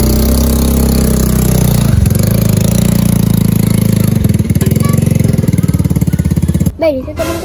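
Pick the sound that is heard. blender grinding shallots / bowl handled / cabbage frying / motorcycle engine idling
motorcycle engine idling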